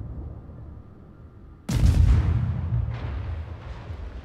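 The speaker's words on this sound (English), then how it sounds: "this is also the guns of the Nicholas" Naval guns of the destroyer Nicholas fire in the World of Warships game: a sudden heavy boom breaks a quiet hum, rolls out into a long rumbling decay, and two fainter thuds follow further on.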